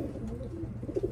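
Racing pigeons coo softly in a low, murmuring run, faint and fairly steady, with a couple of slightly stronger coos near the end and no talking.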